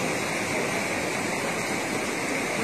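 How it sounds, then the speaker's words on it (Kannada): Hemavathi river water rushes through a canal in a loud, steady roar of broadband flow, constant and close with no voices. "ಹಿಂದಿನಿಂದ ಹೇಮಾವತಿ ನೀರು ಕಾಲುವೆ ಮೂಲಕ ಹರಿಸಲಾಗುತ್ತಿದೆ"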